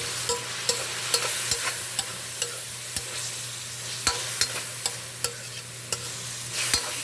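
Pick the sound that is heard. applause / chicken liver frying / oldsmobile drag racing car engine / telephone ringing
chicken liver frying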